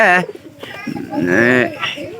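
Pigeons coo nearby in soft, throaty rolling calls, with a person's voice talking alongside them.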